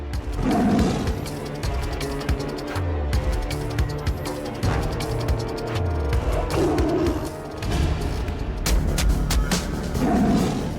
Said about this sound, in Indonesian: Ini harimau bukan harimau biasa, oke?